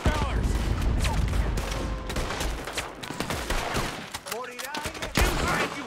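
Gunfire and cannon fire in the Red Dead Redemption 2 video game, a dense continuous fusillade of overlapping shots and booms with voices shouting through the battle.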